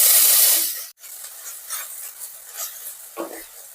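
Black gram frying in a hot tempering while being stirred in a pan, giving soft scraping and light sizzling strokes in a short series after a brief louder burst.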